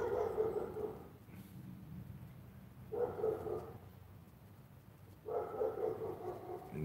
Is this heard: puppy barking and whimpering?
yes